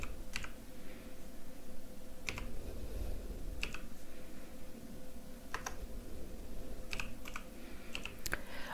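Sparse keystrokes tap out an ID on a computer keyboard, coming as scattered single clicks and short bursts over a constant low background hum.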